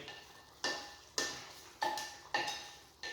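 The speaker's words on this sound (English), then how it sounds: "Scrape off everything inside the pan." A utensil scrapes Alfredo sauce and meat from a pan on the stove, five short, quiet scraping strokes at a fairly even pace with silence between them and no talking.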